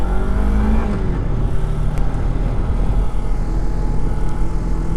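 Car driving along a road, heard from inside as a loud, steady engine drone with low rumble and road noise that holds constant without pause.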